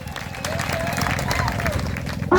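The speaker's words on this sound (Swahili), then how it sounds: "Pigia Yesu makofi." A wedding congregation claps together in a steady, dense burst of applause for Jesus, filling the clip up to a brief sound at the end.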